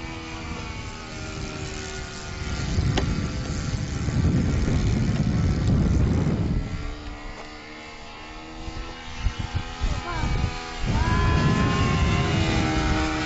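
A Tucano turboprop airplane's propeller engine drones loudly and steadily, with the pitch rising and falling as it passes overhead and fades, then builds again.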